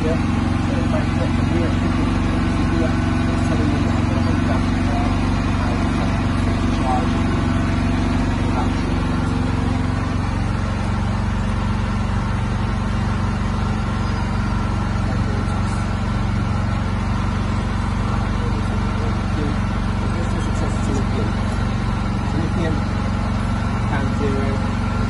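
A generator set engine runs steadily while feeding power to a Sunsynk inverter, a constant low droning hum close by that holds without pause under someone talking.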